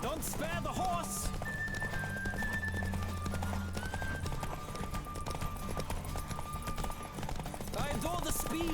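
A galloping horse in The Witcher 3: Wild Hunt, with brisk, steady hoofbeats and a brief whinny, heard close over game music while a person talks.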